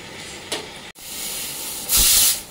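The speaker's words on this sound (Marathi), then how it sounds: "आता इकडे कुकरची शिटी झालेली आहे।" A pressure cooker cooking rajma in a home kitchen releases its whistle as a loud burst of hissing steam lasting under a second, after a steady background hiss and a brief click.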